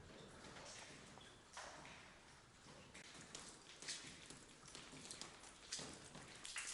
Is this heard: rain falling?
yes